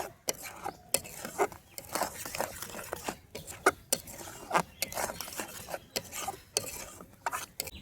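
A spoon stirs plum powder into a sticky tamarind candy mixture, giving close, irregular scraping and rubbing strokes with small clinks against the bowl.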